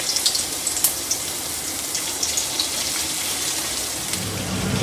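Cornflour-coated chicken deep frying to golden in hot oil for chilli chicken, a constant crackling sizzle with small pops.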